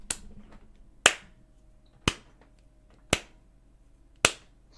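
Five sharp, isolated claps spaced about a second apart in a slow, deliberate rhythm, each ringing out alone over a quiet background.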